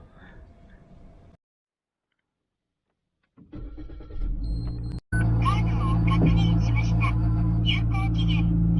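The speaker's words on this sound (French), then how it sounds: "Suzuki a démarré" A Suzuki car starts on a cold morning: after quiet, the engine cranks and catches, then settles into a loud, steady running note close by, with some voice at the start.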